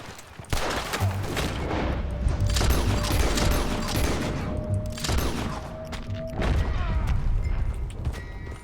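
Repeated gunshots and heavy bursts of fire in the PC game Red Dead Redemption 2, loud and dense through most of the stretch with short pauses between volleys.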